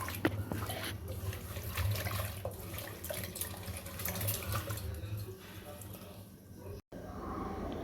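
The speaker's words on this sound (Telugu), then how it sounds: "ఈ కాకరకాయ ముక్కల్ని శుభ్రంగా వాష్ చేసుకొని పక్కన పెట్టుకున్నాము." Bitter gourd pieces being washed under running water in a kitchen, a steady faint splashing and trickling stream that continues throughout, briefly cut off near the end.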